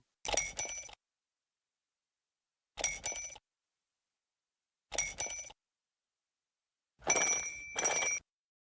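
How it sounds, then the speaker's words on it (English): A loud, shrill metallic alarm clock bell rings at full volume in four separate bursts, each about half a second long, the last one longer and split into two rings, with silence between. "A full-volume alarm clock."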